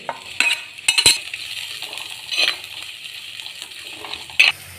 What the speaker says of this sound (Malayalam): ചൂടായ എണ്ണയിലേക്ക് ഉള്ളിയും പച്ചമുളകും ചേർത്ത് കൊടുക്കുന്നുണ്ട്